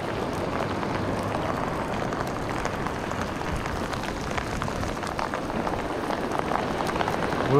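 Rain falls on a beach during a night of metal detecting, a dense, steady patter of drops hitting nearby surfaces that holds at an even level throughout.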